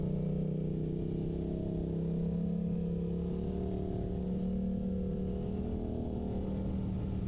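A Suzuki GSX-8R sport bike's engine drones steadily, muffled and fairly quiet, holding a continuous hum with only slight shifts in pitch.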